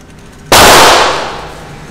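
A single Glock 19 pistol shot fired at close range: a sharp, very loud crack with a short ringing decay.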